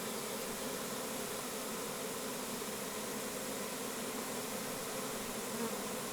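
A swarm of Carpathian honey bees gives a dense, continuous buzzing hum that stays steady and fairly loud throughout, with no voices.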